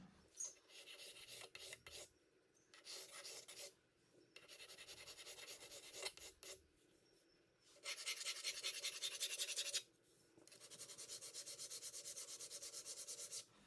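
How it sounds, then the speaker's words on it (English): Sharpening stone rubbed over the steel ways of a 5-inch vise, in repeated bursts of gritty, rasping strokes, some short and some long sustained passes, close and clear with no talk. "just so I can run a stone over all these ways"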